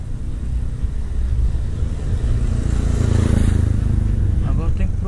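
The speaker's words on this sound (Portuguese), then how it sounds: "Tá vindo uma moto ali." A motorcycle engine hums steadily nearby, its low rumble swelling slightly as it passes along a quiet street, with faint background noise throughout.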